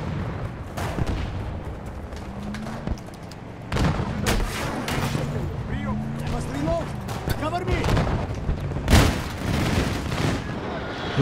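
Dense, chaotic gunfire from a Battlefield 2042 match: repeated bursts of rifle and automatic fire with booming impacts, near and far, running throughout under the din of battle.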